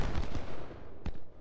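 Artillery and gunfire in the Civil War strategy video game Ultimate General: Civil War, a brief stretch of rumbling shots with one sharper crack near the end, moderately loud.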